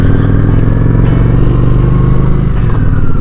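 A Honda Shadow 750 ACE motorcycle engine idles loud and close with a steady, throbbing low rumble and a faint mechanical clatter, without talk.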